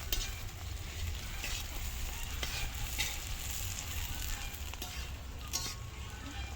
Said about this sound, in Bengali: পেঁয়াজগুলো নাড়বো, হালকা লাল লাল হয়ে এলে তখন